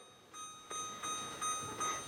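A kitchen timer set for bread baking chirps a run of five short, faint electronic beeps, evenly spaced and fairly quiet, with no voices around them.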